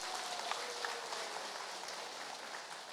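An audience claps at a Red Cross lifelong-learning college's 30th anniversary ceremony, producing a dense, even wash of applause that holds steady for a few seconds.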